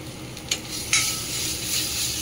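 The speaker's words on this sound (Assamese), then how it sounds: "বইল আলু অকণমান দিলোঁ।" Boiled potatoes sizzle in a pan with turmeric and oil, a steady close frying hiss broken by a couple of brief scraping stirs.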